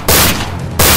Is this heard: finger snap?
no